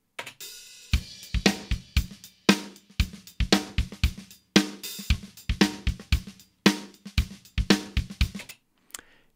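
A mixed drum loop with a punchy snare given extra depth by sidechain compression from a trashy room microphone, heard alone as steady repeated hits with a tight, slightly squashed sustain.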